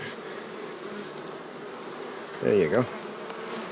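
A colony of honey bees drones in a steady, close buzz inside the hive while powdered pollen substitute is dusted over them, and a voice briefly speaks near the end.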